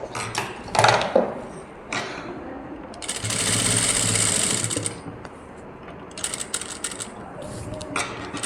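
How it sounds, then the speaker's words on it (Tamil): A sewing machine stitches lace onto a blouse sleeve, running in short bursts and then a longer steady whirring run with mechanical clatter, close and fairly loud. "இந்த லேஸையும் நம்ம ஸ்டிச் பண்ணி முடிச்சிருவோம்."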